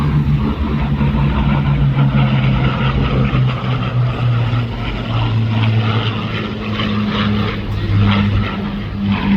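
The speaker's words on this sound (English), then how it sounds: "Aircraft in the lead, the green aircraft flown by Bernie Vasquez, and the number 2 aircraft, the wingman aircraft" A pair of vintage propeller aircraft fly at an air show, the green lead plane followed by its wingman. A loud, sustained engine drone holds steady and close, rumbling throughout with no voices.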